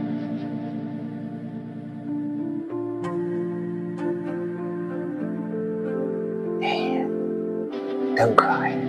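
A cat cries with drawn-out meows that rise near the end of the stretch, mixed with talking voices and a steady tonal background.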